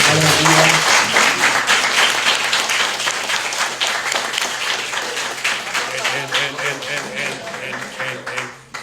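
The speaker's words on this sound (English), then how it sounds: "can we give our host, BeMo, a round of applause?" An audience at an artist talk for a Pan-African World's Fair exhibition applauds steadily for the host, dense clapping that starts loud and gradually thins, with a voice speaking over the opening moments.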